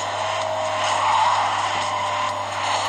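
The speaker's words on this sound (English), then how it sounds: "Oh, look at these cars." Cars skidding in the racing video game Asphalt Injection, a continuous engine whine with tire squeal and drifting noise at steady moderate loudness, with no talking.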